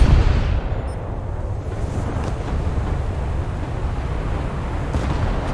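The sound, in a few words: naval gunfire from the video game War Thunder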